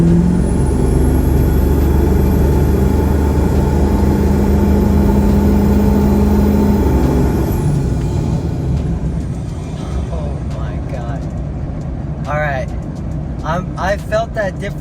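A 2001 Ford 7.3 Powerstroke diesel pickup fitted with a KC300x turbo and up pipes drives lightly, its loud steady engine drone and high turbo whistle dominating before easing, with a person talking over it near the end.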